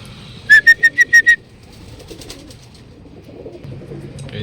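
A racing pigeon just back from a club training flight in Calauag, Quezon gives a quick series of six loud, close cooing notes, then fades into faint background murmur.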